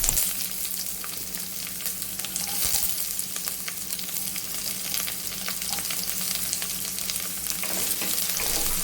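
Mustard seeds, curry leaves and chopped onion frying in hot oil for a ridge gourd curry, a dense, continuous sizzle and crackle close up with occasional stirring scrapes and no talk.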